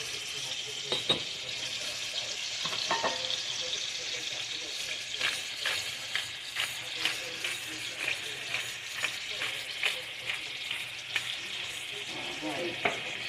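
Salt-and-pepper seasoned chicken pieces frying and browning in a pan, a constant crackling sizzle up close with scattered spatter pops and light utensil clicks.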